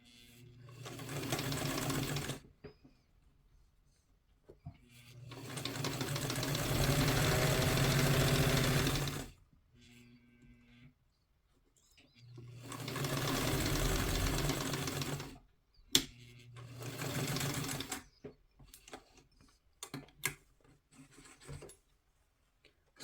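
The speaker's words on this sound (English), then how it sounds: "take the neckline of this side. Back stitching beginning and end." Sewing machine stitching a two-piece collar neckline with back stitching, running in three long bursts separated by quiet pauses, the last burst choppier with short stops and clicks; no one talks.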